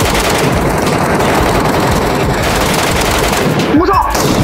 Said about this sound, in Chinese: 前面那个枪声应该是他们最后一个队友了